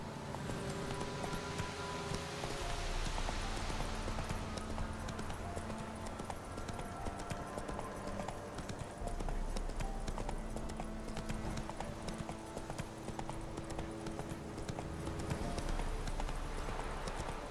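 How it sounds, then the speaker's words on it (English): Horse hooves clip-clop steadily on the ground in The Witcher 3 video game, a continuous rhythmic trot alongside game music and ambience, with no talking. "So this is Roach. He's my horse."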